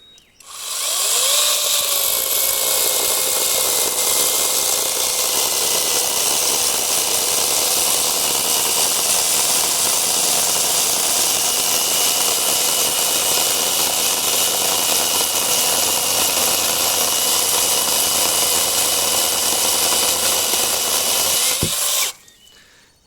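A Konsun cordless chainsaw runs at a steady, loud whine for about twenty seconds, cutting wood continuously before it cuts off abruptly.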